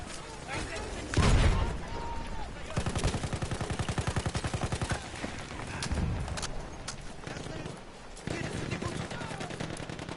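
Video game shotgun fire in a multiplayer match: a quick series of loud, sharp shots with rhythmic rapid bursts in between, heard under a commentator's talk.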